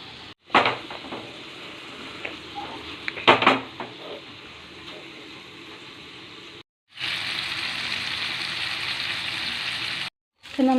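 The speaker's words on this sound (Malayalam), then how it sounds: "നമ്മുടെ മീൻകറി ഇവിടെ കിടന്ന് നന്നായിട്ട് തിളച്ച് വേവുന്നുണ്ട് കേട്ടോ" Fish curry boiling in a covered pot in a home kitchen, a steady bubbling hiss with clatter of pot and lid early on, then a louder continuous simmering roar after a brief break.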